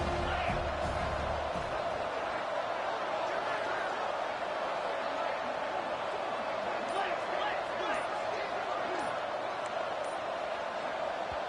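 A stadium crowd roars in a college football video game, a dense, loud, continuous wall of cheering and noise with a commentator's voice talking over it.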